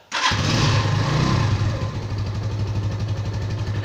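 A 125cc motorcycle engine on half choke catches after a brief starter whirr, revving loudly before settling into a steady, rapid near idle putter with no talk over it.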